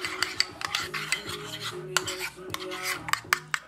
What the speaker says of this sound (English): You're going to stir it up.